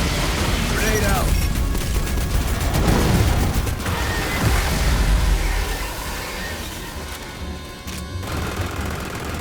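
A grenade blast and gunfire in the sci-fi shooter game Aliens: Fireteam Elite, heavy booms and crashing rattles in a loud, chaotic wash that fades slightly toward the end.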